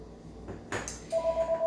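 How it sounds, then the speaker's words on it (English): A phone rings in a kitchen while food is being prepared, a soft rustle then a repeating electronic ringtone pulsing in short even beeps, fairly close. "sorry about my phone."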